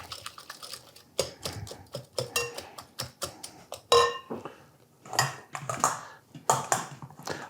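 Cheese, a pinch of nutmeg, pepper and spinach filling being mixed in a bowl, with repeated clinking and scraping of a utensil against the bowl in quick irregular bursts, close and moderately loud.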